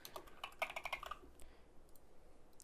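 Computer keyboard keys are tapped in a quick burst of close clicks, then a few sparse single presses follow, all quiet.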